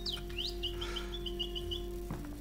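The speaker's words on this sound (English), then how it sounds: "some birds can be very loud. This is one of them." Bird chirps and a short run of repeated high tweets in the video game Ad Infinitum, fairly faint over a steady low electronic hum.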